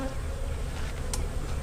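Honey bees swarm and buzz around an open hive during a March spring inspection, a dense, steady, close droning hum with no other sound over it.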